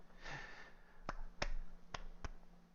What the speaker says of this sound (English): This is me clapping in the background, if you can't hear it.